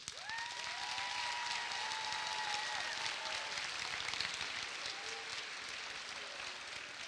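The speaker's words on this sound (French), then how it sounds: "Applaudissons-les également, s'il vous plaît" A graduation ceremony audience for a strategy master's programme applauds steadily, a dense continuous wash of clapping from a large hall crowd, with a few faint voices rising above it.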